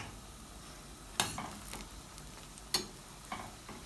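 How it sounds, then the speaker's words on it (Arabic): Awameh dough balls fry in hot oil with a steady, soft sizzle, broken by a few sharp pops and light clinks. "هلا برجعهم على الزيت. رجعت حميت الزيت"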